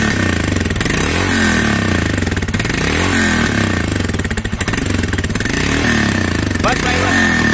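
A Royal Enfield Himalayan motorcycle engine runs nearby, its thumping single-cylinder idle rising and falling through several throttle blips and revs, loud and close throughout.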